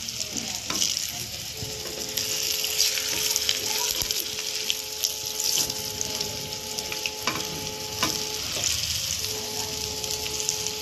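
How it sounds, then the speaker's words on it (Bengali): Lentil fritters crackle and sizzle continuously in hot oil over high flame, close by, with occasional clinks of a utensil and a faint tonal hum. "এটা এক একটা করে উল্টে দেবো, উল্টে দিয়ে এগুলো লাল লাল করে ভাজবো।"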